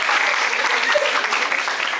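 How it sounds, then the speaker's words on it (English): Audience clapping at a NIFT Panchkula convocation, a dense, steady applause from a crowd filling the whole two seconds at even loudness. "I need a clap on this."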